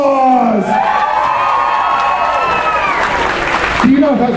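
Costume contest audience at a convention applauding and cheering, loud and continuous, with a voice shouting over it and rising whoops near the end.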